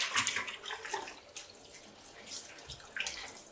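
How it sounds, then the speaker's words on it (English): Cold tap water runs at a sink as purple fabric, used to strain grape juice for natural dye, is rinsed, giving a close, splashy rush with uneven surges across a few seconds. "I'm just gonna rinse in cold water this purple fabric that we used to filter the grape juice through"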